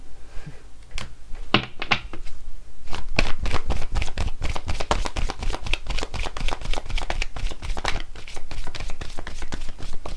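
A deck of cards is shuffled by hand during a creative visualization card reading, giving a loud, rapid run of crisp riffling clicks that continues steadily for several seconds.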